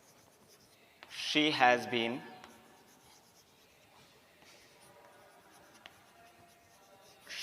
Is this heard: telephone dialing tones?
no